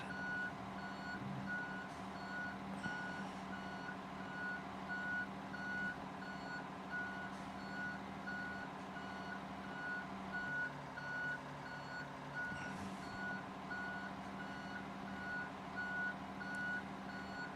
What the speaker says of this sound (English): Eventually, it just becomes white noise, the beeping.